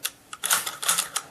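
Sharp metallic clicks and sliding scrapes come from working the bolt of a Mosin Nagant rifle to uncock it and pull out a live round; brief close bursts with gaps between, no talking.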